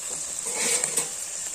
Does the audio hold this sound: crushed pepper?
yes